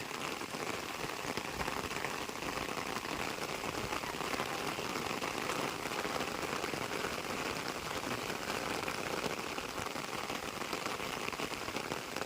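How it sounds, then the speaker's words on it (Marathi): Steady heavy monsoon rain pours down continuously in a Konkan forest, a dense hiss of drops drumming on surfaces with no pauses. "आणि मस्त असा जोरदार पाऊस आला"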